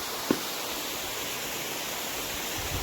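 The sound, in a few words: waterfall flowing near Rudreshwar caves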